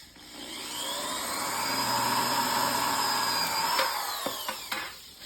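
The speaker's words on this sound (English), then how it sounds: "So for now, you can just drill a pilot hole." A power drill whirs steadily at close range for a few seconds while drilling a pilot hole during a wiper linkage repair, then stops; a couple of sharp clicks and knocks follow.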